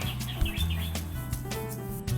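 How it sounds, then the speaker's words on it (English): Birds chirp and tweet outdoors beside a bungalow in Okinawa, light repeated calls over a steady low hum of background noise. "Just birds and stuff."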